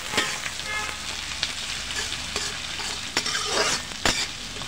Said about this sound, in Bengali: পেঁয়াজটা ভালো করে নরম করে ভেজে নিব।